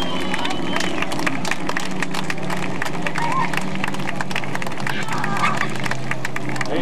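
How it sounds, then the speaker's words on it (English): A crowd at a 1995 mini stock race at C.C. Speedway applauds the winning car in the winner's circle. Dense, continuous clapping and cheering fill the whole stretch, with voices mixed in. "A big round of applause right now for car 77"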